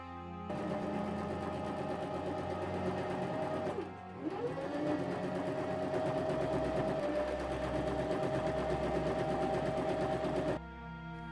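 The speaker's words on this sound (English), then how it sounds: "Then I sew two rows of gathering stitches at the top and bottom." A sewing machine runs steadily, stitching two rows of gathering stitches across fabric for a Regency apron dress bodice, with one brief pause near the middle; the close, even whirring carries on alone for about ten seconds.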